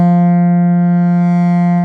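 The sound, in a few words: Moog Model 15 synth, sine wave modulating the filter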